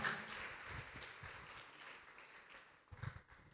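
Faint, distant applause from a talk show audience greets a guest, a soft wash of clapping that gradually thins out, with a brief louder burst near the end.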